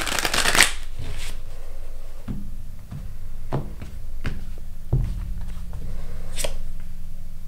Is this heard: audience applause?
no